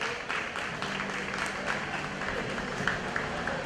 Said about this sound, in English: That round of applause is coming from the Ghana Bar Association